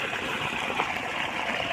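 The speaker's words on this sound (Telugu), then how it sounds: "ఇక్కడ మన చేళ్ళకి అయితే నీళ్ళు పడుతున్నాయి." Water flows steadily into a farm field, a continuous close rushing and trickling wash that stays even throughout with no voices.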